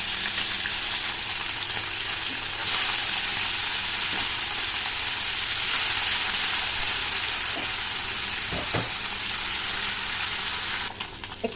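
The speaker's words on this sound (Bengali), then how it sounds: "দেখো, নুন হলুদ মাখিয়ে মাছটা ভেজে নিচ্ছি।" Parshe fish rubbed with salt and turmeric frying in mustard oil in a wok (kadai), a loud continuous hiss and crackle of sizzling that swells and steadies, with a few soft clinks near the end.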